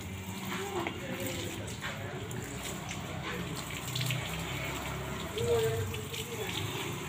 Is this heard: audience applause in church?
no